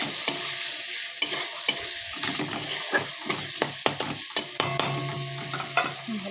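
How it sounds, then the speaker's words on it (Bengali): Tomato with ginger, spices and salt sautés in a pan for a kalla fish curry, as a utensil scrapes and stirs in repeated sharp strokes over a steady, loud sizzle. "ভালোভাবে কষিয়ে নেব।"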